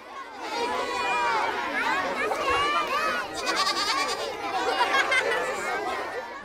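A goat at a children's farm bleats several times amid the lively chatter and calls of children nearby, with overlapping voices and bleats filling the whole stretch.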